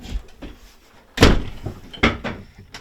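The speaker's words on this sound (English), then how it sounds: "And then shut the door with no problems." A door is pushed shut nearby with a sharp slam, followed by lighter knocks and a second firm thud, amid faint shuffling sounds in a small room.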